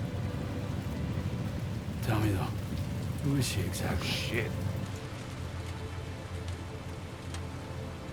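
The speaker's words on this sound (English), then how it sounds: "Oh no, that's rain." Steady rain hisses throughout a Death Stranding 2 game scene, with a low rumble of thunder partway through and a voice speaking briefly over it.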